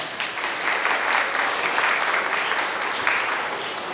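Guests at a Korean wedding ceremony applaud right after the couple's vows; warm, continuous clapping from a room full of people holds steady for a few seconds at moderate volume.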